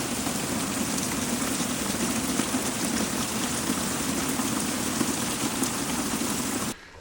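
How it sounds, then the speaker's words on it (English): Heavy rain in Alaska pours in a loud, dense, constant hiss on the ground and surfaces, then cuts off abruptly at the end. "last night and this morning, it completely dumped"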